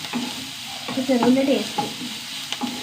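Chopped shallots and green chilies sauté in a pan, a steady sizzle broken by a few scraping stirs of a spoon, close and moderately loud with no talking.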